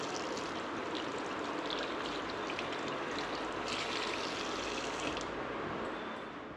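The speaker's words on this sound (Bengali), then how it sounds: "হাতও ধুয়ে নেব, যেহেতু খাবো এখন।" Running water streams steadily, as when washing hands before a meal at a sightseeing stop, heard as a continuous close rush with faint higher splashing and no speech.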